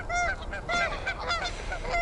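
Geese in large formations honk repeatedly in overlapping nasal calls, a loud, busy chorus that is fairly close and goes on without a break.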